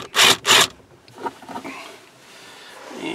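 On a Toyota Tundra dash, two quick, loud ratcheting rasps from a socket on an extension come close together, then softer scraping and handling noises follow.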